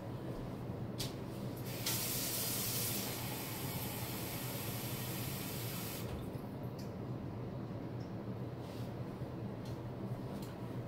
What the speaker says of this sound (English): So I am going to add cold tap water to this.